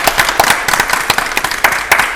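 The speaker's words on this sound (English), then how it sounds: "Big round of applause." A studio audience on an antiques game show applauds, a close, lively patter of many hands clapping with some sharper individual claps standing out, steady and fairly loud.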